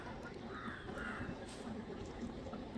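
Crows caw at Kolavipalam beach in Payyoli, Kozhikode, a few faint calls rising over a steady wash of outdoor background noise.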